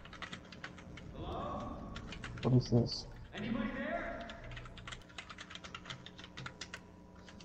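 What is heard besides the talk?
typing on a computer keyboard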